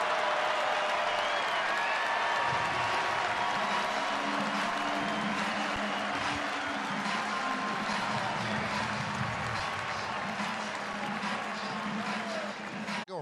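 Yankee Stadium crowd giving a departing Yankees pitcher a sustained round of applause during a game against the Orioles, a steady broad wash of clapping and murmuring from a large crowd lasting throughout.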